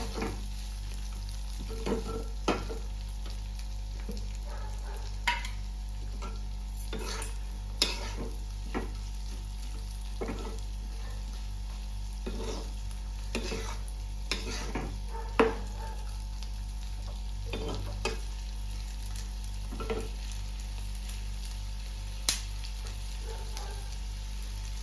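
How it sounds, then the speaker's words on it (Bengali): Chopped onion, garlic and ginger fry in a pan on a steady low sizzle, with repeated scraping strokes of a stirring spoon on an irregular rhythm, close and fairly quiet, with no talking. "দিয়ে একটু হালকা গ্লসি করে ভেজে নিতে হবে"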